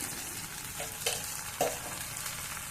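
Spices stirred into potato curry in a pan give a steady close frying sizzle, with a few soft spoon scrapes and clinks against the pan.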